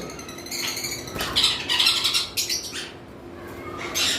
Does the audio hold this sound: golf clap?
no